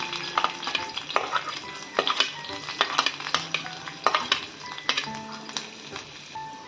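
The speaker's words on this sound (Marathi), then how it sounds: "तेल गरम झाल्यावर सगळ्यात आधी यामध्ये लसूण टाकून घ्यायचा" Garlic frying in a spoonful of hot oil in a pan, with a steady crackling sizzle broken by repeated stirring scrapes and clinks at close range, and no talking.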